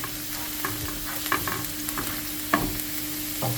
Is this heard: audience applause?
no